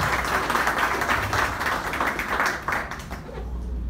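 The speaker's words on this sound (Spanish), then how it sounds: "Los aplausos también para él, por favor." Applause from the audience at the opening ceremony of the Ica region table-grape export campaign: dense, steady clapping from a sizable crowd that fades toward the end.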